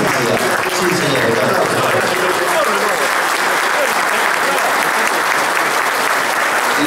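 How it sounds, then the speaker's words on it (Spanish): Loud, continuous crowd applause at a union rally launch event in San Lorenzo, many hands clapping densely and evenly for several seconds with crowd noise underneath. "aplausos"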